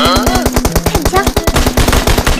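SKS rifle shots in the mobile shooter Game for Peace, a rapid string of sharp, loud cracks in quick succession with a voice speaking underneath.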